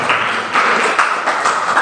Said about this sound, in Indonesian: Coba beri tepuk tangan dulu.